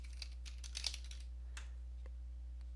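Keys on a computer keyboard are tapped in a short, light burst of clicks at close range over a steady low electrical hum, with no talking.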